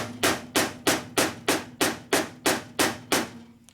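A hammer beats on a 1961 Harley Sportster transmission case, ten evenly spaced sharp metallic blows about three a second, close and distinct, with a faint hum underneath.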